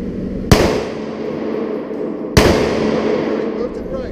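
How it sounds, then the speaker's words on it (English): Two loud, close handgun shots at a shooting range, spaced about two seconds apart, each a sharp crack with a ringing decay, over a steady background murmur. "Two shots, line them up."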